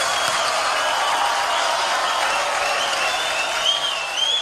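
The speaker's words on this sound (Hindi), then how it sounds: "एक बार जोरदार तालियां पूरे" Loud, dense audience applause for a producers guild at an evening event, a steady wash of clapping from a large crowd throughout.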